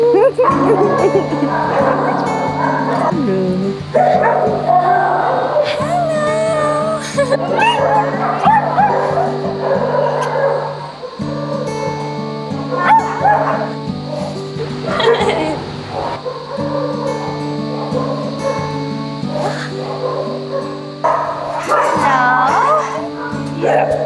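Several dogs at an animal shelter barking, yipping and whimpering in repeated, overlapping bursts, loud and nearby, while people talk over them throughout.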